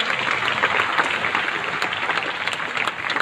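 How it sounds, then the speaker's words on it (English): A festival crowd claps steadily and densely for a performance at the Buddha Birthday Festival in South Bank, Brisbane, the applause loud and even from start to finish. "can we give them a big round of applause to Wu Fu Diablo performing true"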